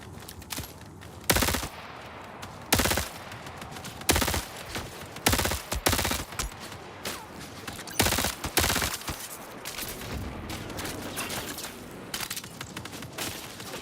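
Gunfire from the video game Marathon on PS5 Pro, with loud bursts of rapid shots that come in short volleys and repeat with brief gaps between them.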